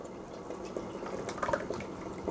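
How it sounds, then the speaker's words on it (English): Homemade non-dairy pumpkin spice creamer poured through a fine mesh strainer into a funnel, a soft, steady trickle and splash of liquid with small drips, close and quiet. "I'm going to pour this"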